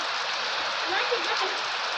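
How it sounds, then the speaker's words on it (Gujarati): Heavy rain falls in a steady, close, broadband roar, briefly joined by faint voices underneath. "આવો વરસાદ આવી ગયો છે"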